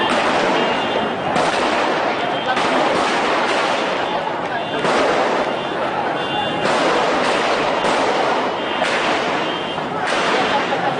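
Repeated loud blasts from explosions or gunfire, several bursts in close succession over a continuous roar, with voices present.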